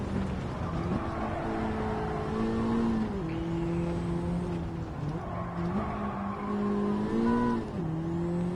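Gran Turismo 7 race car lapping Road Atlanta, a steady loud engine drone shifting pitch through gear changes and corners, with faint tyre noise underneath, continuous throughout.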